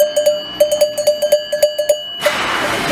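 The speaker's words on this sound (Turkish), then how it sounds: "Bu da ocak çanı." A hearth bell struck at a bell-making workshop gives a rapid series of bright metallic strikes with ringing overtones, loud and close. A burst of broadband noise follows at the end.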